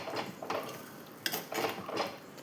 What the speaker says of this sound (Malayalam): ഇനി ഈ കറിയെല്ലാം കൂടി ഒന്ന് നന്നായിട്ട് തന്നെ ഒന്ന് ഇളക്കി കൊടുക്കാം